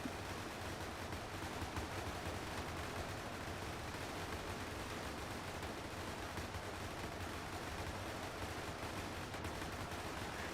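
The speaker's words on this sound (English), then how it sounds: "See the MGs here doing God's work on that beach." Dense machine gun fire rattles nonstop along a beach battle in Ultimate Epic Battle Simulator 2, a distant, even wash of overlapping shots at low level with no talking.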